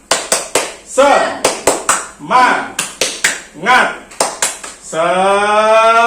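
A classroom of students answers a teacher's cue with the rhythmic 'tepuk semangat' clapping chant: sharp grouped claps in quick patterned bursts, close and loud, with voices chanting between them and a sustained shout at the end.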